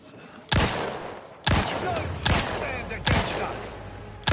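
A heavy revolver-type gun in The Outer Worlds 2 fires five loud, sharp shots spaced roughly a second apart, each followed by a short ringing decay.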